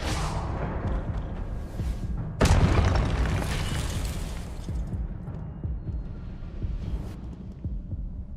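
Confringo blasting spell from Hogwarts Legacy, a sudden loud burst that breaks over low rumbling game ambience and then trails off into a fading roar.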